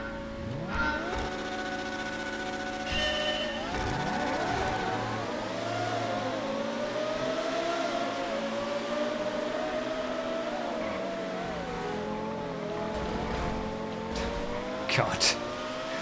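Race cars in a GTA FiveM street race rev and accelerate off the start line, several engines whining and climbing in pitch together. The roar is loud and sustained, with someone talking over it.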